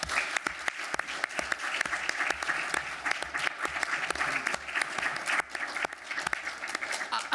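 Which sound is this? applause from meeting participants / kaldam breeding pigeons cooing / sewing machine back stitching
applause from meeting participants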